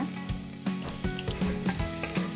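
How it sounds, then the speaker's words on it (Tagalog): Minced garlic sizzles in hot oil, a steady crackling fry broken by repeated rhythmic knocks of stirring against the pan, close and fairly quiet. "Pag mainit na yung oil natin, lalagay natin ang bawang."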